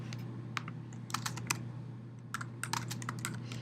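Light clicks of typing on a computer keyboard come in short irregular bursts, quiet and close, over a steady low hum, with no one speaking.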